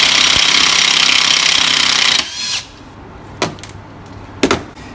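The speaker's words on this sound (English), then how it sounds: "if you've got access to a rattle gun, you can just spin that nut straight off." An impact wrench rattles loudly and steadily for about two seconds, spinning the front sprocket nut off a Vortex Mini ROK kart engine, then stops, followed by a few sharp metallic clicks and knocks.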